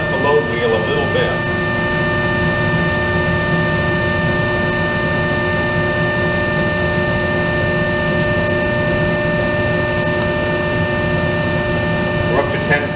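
Compression testing machine loading a 7-day concrete cylinder, a loud steady mechanical hum with strong tonal whine from the motor and hydraulics running continuously, with brief rattling near the start and end.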